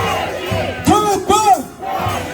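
Crowd at an outdoor political rally calling for abolition of lawmakers' privileges shouts a loud chant in unison, two strong swelling cries rising over a steady background roar of the gathered people.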